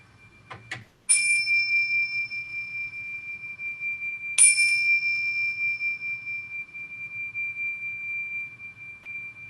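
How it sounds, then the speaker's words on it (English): A bell is rung twice at the start of a church service, each strike bright and clear, with a long, pure ringing tone that hangs in a quiet room before slowly fading. "Rich, if you'll ring the bell, I will light the candle."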